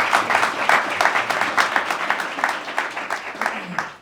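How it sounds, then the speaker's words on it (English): An audience applauds at a business talk event, a dense sustained burst of many hands clapping at close range, steady and then tapering off toward the end. "can we clap it up for that?"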